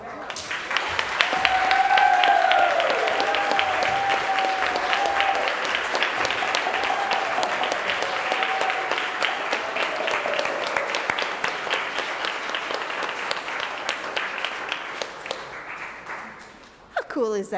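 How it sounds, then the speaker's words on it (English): An audience applauds loudly and continuously for over fifteen seconds, a dense wash of clapping that swells early and slowly thins out, with cheering voices mixed in. "we are going to burst into applause"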